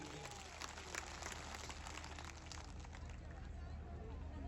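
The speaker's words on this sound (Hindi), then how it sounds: "दोनों हाथ हवा में उठाकर जोरदार तालियों की गड़गड़ाहट कर दीजिए" Audience applause at a political rally in Pushkar, a thick, continuous patter of clapping with crowd babble mixed in, steady and fairly close, with no clear speech standing out.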